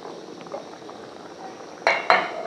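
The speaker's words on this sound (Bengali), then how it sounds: "আর কিছু সময়ের জন্য ফুটিয়ে নিচ্ছি, 2-5 মিনিটের জন্য।" Chicken gravy seasoned with coriander powder and chicken masala simmers in a pot with a soft, steady bubbling hiss. Two sharp utensil clinks near the end stand out above it.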